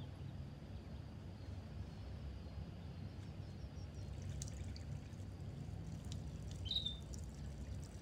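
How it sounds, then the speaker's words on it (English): A toilet flushing in Heavy Rain, a steady low rush of pouring, swirling water running throughout at moderate-to-faint level, with a few faint chirps and small clinks on top. "Yeah, flush that toilet."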